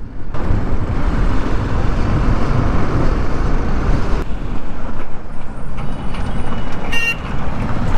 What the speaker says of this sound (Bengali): রানাঘাট রেলগেটের বিখ্যাত জাম।